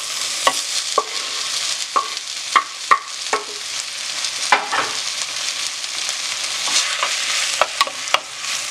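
Tomato and onion frying in a pan with steady sizzling hiss, punctuated by several sharp scrapes and clicks of a spoon stirring, close and clear with no voices.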